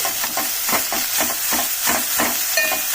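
Mint leaves fry in a pan for chutney with a steady sizzle, while a spatula stirs in a regular rhythm of scraping strokes, close and fairly loud.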